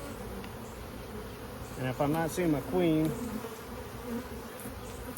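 Honey bees buzz in an open, crowded hive, a soft constant hum beneath someone talking close by, with a few brief louder buzzes near the middle.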